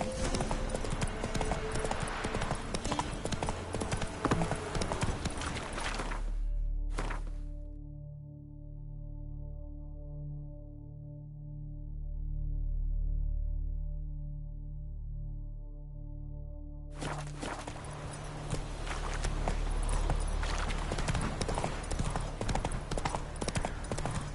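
A horse galloping in the video game The Witcher 3: rapid, close clip-clop of hooves that fades into a quiet, droning tonal stretch midway and then resumes at full pace.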